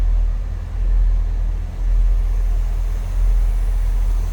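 A 1972 Chevrolet Corvette convertible's restored V8 with a 4-barrel Quadrajet carburetor idling smoothly up close, a loud steady low rumble with slight rhythmic swells and no talk.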